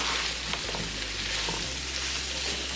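Breakfast potatoes frying in oil in a pan give a steady, close sizzle with a continuous crackling hiss and a low hum underneath, and no one speaks.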